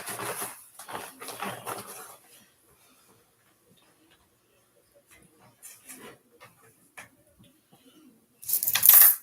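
Nickels from a coin roll are poured into a bag, giving faint, scattered clinks and jingles in short clusters with quiet stretches between them, ending in a louder metallic rattle.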